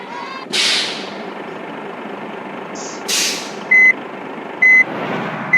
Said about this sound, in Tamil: நம்ம கொஞ்சம் ரிவர்ஸ் எடுத்துக்கலாம்